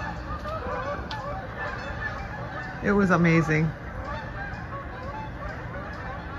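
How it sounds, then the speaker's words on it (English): Flying geese pass overhead and give a short burst of loud, close honks that rises clearly above steady outdoor background noise, with a person speaking nearby. "I just missed all these geese flying overhead."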